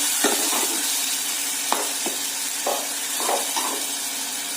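Ground masala paste sautés in oil in a pan for Konkani-style sweet dal, with a steady hissing sizzle and several soft stirring scrapes spread through it.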